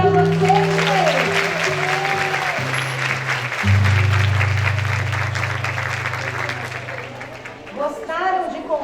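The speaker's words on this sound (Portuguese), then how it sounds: "Palmas para vocês." Listeners at a Portuguese-language storytelling talk applaud, moderate clapping running under sustained tones and murmured voices, fading toward the end as talking resumes.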